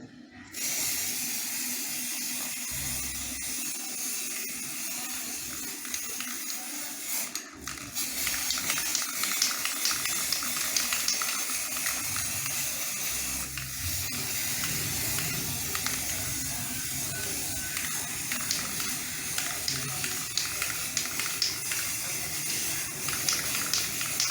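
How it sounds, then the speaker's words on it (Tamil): A steady, loud hiss from an aerosol spray can painting a Pulsar 200 DTSi motorcycle runs almost continuously, with brief pauses and small bumps, close to the listener. "அப்படியே மேலே பெயிண்ட் ஸ்ப்ரே பண்ணிடலாம்."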